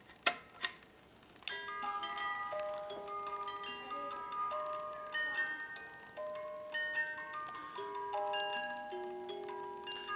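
Reuge porcelain musical carousel in Capodimonte style plays its comb tune, bright plucked metallic notes ringing and overlapping steadily after a couple of faint clicks at the start, close and fairly quiet.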